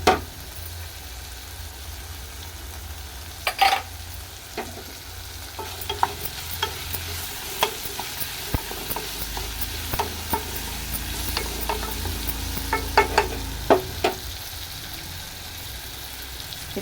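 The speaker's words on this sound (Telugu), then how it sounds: "ఇప్పుడు కరివేపాకు వేసుకోవాలి." Curry leaves frying in a pan for a sweet ivy gourd curry, a steady close sizzle for over fifteen seconds with scattered scrapes and clicks as a spoon stirs them.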